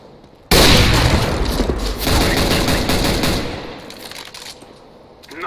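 Gunshots from a sniper rifle in the CS:GO video game: a sudden loud crack bursts in, then a sustained clattering barrage of shots follows and tapers off, with no voices heard.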